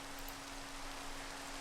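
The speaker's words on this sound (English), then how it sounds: "it's raining" Steady rainfall in the Minecraft-style modpack Enigmatica 2, a soft, even wash of hiss that stays constant throughout and sits quietly in the background.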